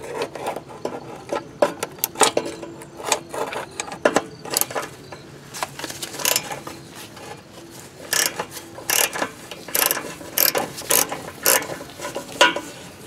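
A ratchet wrench turns a 7/16 nut on a car during a twin-turbo install, giving repeated close clicking bursts in an irregular rhythm, with pauses between runs of ratcheting.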